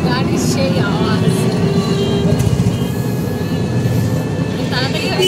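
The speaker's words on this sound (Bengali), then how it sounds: "গাড়ির সেই আওয়াজ।" A steady, close engine and road rumble from a vehicle heading to the station, unbroken for the whole stretch, with faint higher-pitched whines riding over the low drone.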